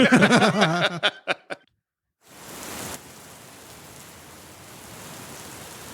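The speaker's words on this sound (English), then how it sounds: "It's hailing outside, and my car is getting pelted." Hail pelts steadily outside and drums on a parked car, a dense, even hiss of impacts that follows a brief burst of speech and continues alone.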